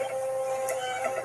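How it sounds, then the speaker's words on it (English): A printer whirs along steadily with a faint mechanical tone and a brief higher click partway through, fairly quiet and on its own. "I just heard a printer too."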